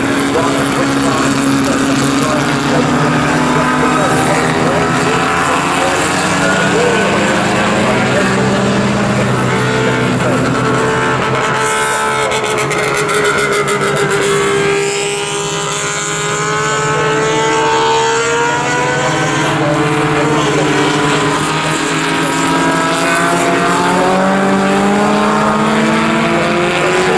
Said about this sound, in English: Livingston's going to go around the outside into Stowe corner and take one quick line